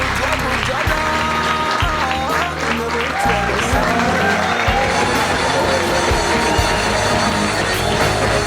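A church congregation applauds together in a sustained, steady burst of clapping, with tonal music or singing running underneath and voices mixed in.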